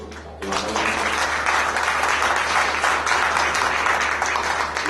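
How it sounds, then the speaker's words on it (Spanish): Audience applause at a university theatre presentation during a book fair, a sustained crowd of clapping that breaks out suddenly after a brief quiet moment and stays steady and loud throughout. "del autor Tomás Ireland, a quien le pido un aplauso que está acá con nosotros"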